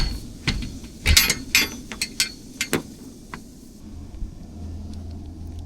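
A ratchet works square U-bolts loose from unistrut outdoors, giving a run of sharp clicking ratchet strokes and metallic creaks up close, then quieter background noise.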